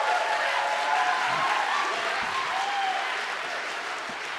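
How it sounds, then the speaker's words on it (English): Debate audience breaking into loud, dense applause that fills the room, a continuous wash of clapping that eases slightly toward the end. "that's my second warning on applause"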